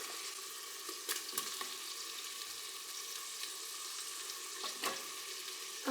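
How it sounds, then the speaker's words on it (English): Bacon fries in a pan for a Christmas dinner, a soft, even sizzle with fine crackling and a few brief pops and clicks, fairly quiet and steady throughout. "Okay, I am ready to add the bacon."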